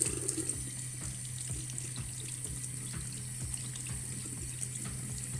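Running tap water flows steadily into a sink as a hand-whitening mask is rinsed off the hands, a continuous close splashing hiss with no one talking.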